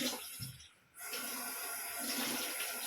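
Tap water runs steadily into a kitchen sink while cooking pots are washed, with a brief lull near the start before the broadband splashing and flow resume close to the microphone.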